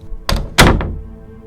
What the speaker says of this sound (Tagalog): pagbukas ng pintuan ni Dara